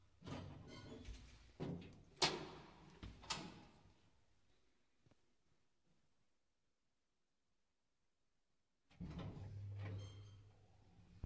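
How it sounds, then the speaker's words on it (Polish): Freshly serviced elevator doors clunk and slide in a quick series of faint knocks and scrapes, then fall silent for several seconds before a low mechanical rumble returns. "Dzisiaj zrobiono przegląd wszystkich drzwi w naszej windzie i teraz chodzi jak w Pałacu Kultury."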